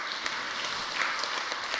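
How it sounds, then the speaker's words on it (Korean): A seated church audience at a worship-manual seminar gives brief, steady applause, a dense patter of clapping at moderate distance that fills the whole moment without any voices. "다시 한번 우리 수고하셨다고 박수해 주시면 고맙겠습니다."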